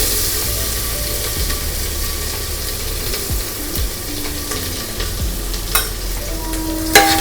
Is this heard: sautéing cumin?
yes